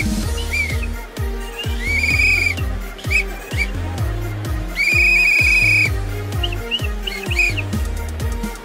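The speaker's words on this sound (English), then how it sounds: "Gotta blow that whistle." A referee's whistle at an NFL game gives two long, shrill blasts, each lasting about a second, over a loud, thumping music beat that runs the whole time.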